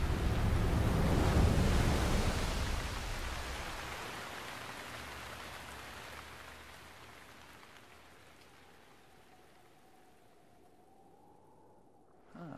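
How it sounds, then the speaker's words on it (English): Water gushing and spouting from a giant elephant-like beast in Zelda: Breath of the Wild, a loud broad rushing roar at first that gradually fades and thins, with no talk. "The water spouting from Router has slowed down."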